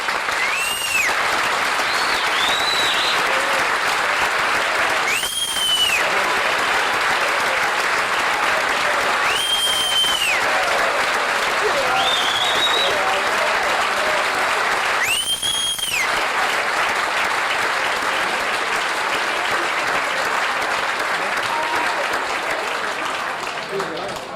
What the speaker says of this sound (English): let's have a round of applause for the new guys in the 75th.